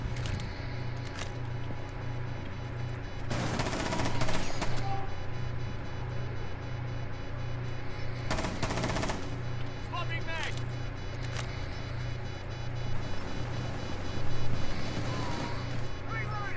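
Gunfire in the tactical shooter Rainbow Six Siege: two loud broadband bursts of shots, one longer and one shorter, over a steady low game hum while players talk throughout.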